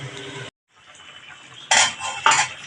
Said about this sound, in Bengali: এখন আমি চাপা দিয়ে দিচ্ছি